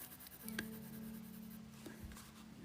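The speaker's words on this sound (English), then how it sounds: "These are colored pencils by Caran Dash." A Caran d'Ache colored pencil rubs softly across paper on a coloring page in a quiet room, a faint steady scratching with a few light taps.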